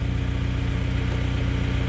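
A parked car's engine idles after a twenty-minute drive, a steady low rumble with an even, pulsing rhythm, close and unchanging, with no voices over it.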